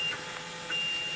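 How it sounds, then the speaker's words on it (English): A Printrbot Play 3D printer printing a hook whirs faintly in the background, its stepper motors giving a soft steady hum with brief high tonal chirps. "You can hear the printer still in the background going away printing that hook."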